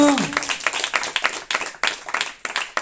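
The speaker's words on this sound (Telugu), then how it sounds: "చప్పట్ల గట్టిగా కొడతామా?" A church congregation at an evening worship service in Alluru claps loudly together, a dense burst of many hands with irregular rhythmic surges, near and filling the room, under a voice at the start.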